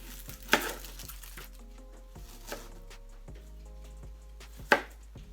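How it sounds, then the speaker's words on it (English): Onions and mushrooms are cut into small pieces on a board, with three distinct knife chops spaced a couple of seconds apart over quiet background music. "So we're going to start this recipe off by preparing the onions and the mushrooms by cutting them up into small pieces."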